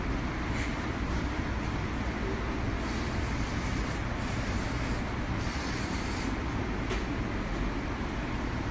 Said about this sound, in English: So I'm going to use a strong hold hairspray.